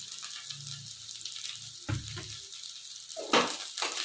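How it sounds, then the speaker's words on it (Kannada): Spring onion and capsicum frying in a pan for veg fried rice, a steady broadband sizzle with brief stirring bursts near the middle and end, no voices. "ಈಗ ಇದನ್ನೆಲ್ಲ ಸ್ವಲ್ಪ ಚೆನ್ನಾಗಿ ಫ್ರೈ ಮಾಡ್ಕೊಳ್ಳೋಣ"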